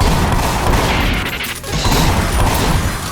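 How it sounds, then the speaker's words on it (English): A loud, roaring blast from an explosion in a video game fills the whole clip with dense rumble and crackle, dipping briefly in the middle before surging again. "The explosion hurts me."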